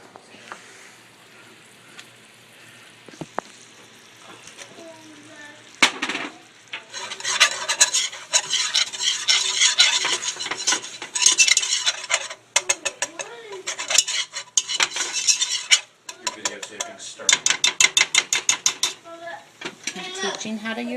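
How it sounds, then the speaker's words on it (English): A wire whisk scrapes and rasps steadily against a pan as flour is whisked in for a home-cooked dinner, with a continuous, close rhythmic scratching that builds after a quieter start and continues in dense bursts. "Whisk in flour and then cook it 1 minute."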